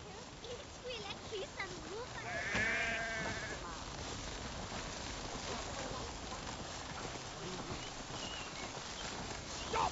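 Clip-clopping horse hooves mixed into a busy Assassin's Creed Valhalla soundscape, with animal bleats and voices talking over the steady background noise.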